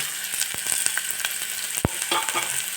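Sprouted legumes frying in oil with onion and turmeric for sambar crackle and sizzle up close, punctuated by quick spoon scrapes and one loud knock against the pan, with nobody speaking.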